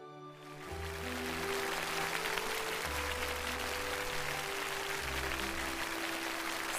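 A studio audience on a CCTV variety show applauds a family of teachers. The clapping is dense and sustained over steady background music.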